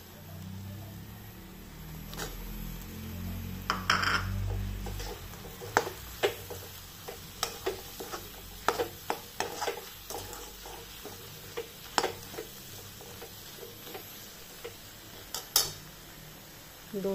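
Paneer stir-fried with fried masala in a pan, a spoon scraping and tapping the metal pan in irregular clicks and knocks over a soft, steady sizzle, close and fairly quiet.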